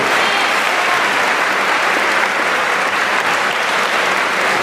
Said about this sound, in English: So one more round of applause for Joyce.